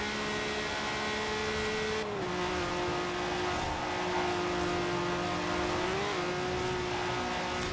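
Honda NSX engine held at full throttle in Forza Horizon 4, a loud steady high-revving drone with clear harmonic tones that dip briefly at gear shifts and then climb again, continuous and close, no voices.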